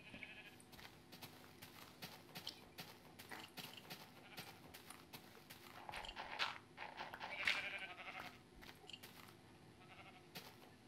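Faint bleating of sheep in the blocky farm world of Minecraft, a couple of soft distant bleats rising over a quiet, clicky background with no clear talk.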